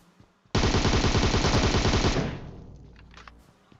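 A loud, rapid burst of automatic gunfire from a UMP in PUBG Mobile rattles for about a second and a half, then fades into a ringing echo with scattered faint clatter.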